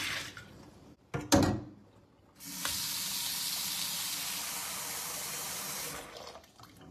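Steady rushing and splashing water runs for several seconds after a brief clatter, as water is poured over homemade butter in a bowl to wash it, then stops abruptly.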